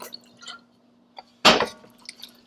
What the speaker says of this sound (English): Just a couple splashes of Worcestershire sauce.